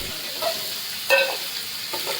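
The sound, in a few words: pomfret fish frying in oil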